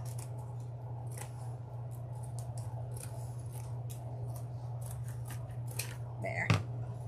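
Scissors snip through craft material and pipe cleaner while a floral ice cream cone wreath is assembled, giving a run of sharp, close clicks and cuts at an irregular pace over a steady low hum, with one louder snip near the end.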